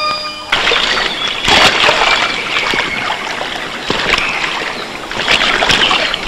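Flowing river water sloshes and splashes close by in a Tamil comedy film scene, a continuous rushing wash with sharper splashy bursts, and no clear speech over it.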